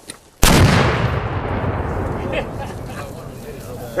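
A 7 cm Spanish mountain rifle cannon, primed with a friction primer, fires once with a sudden loud blast that rolls into a long, fading rumble and echo outdoors.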